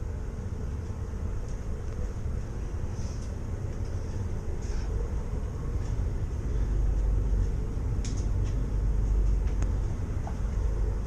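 Steady low rumble of a train rolling through the Channel Tunnel, with a continuous droning roar that swells slightly louder toward the end; no talking.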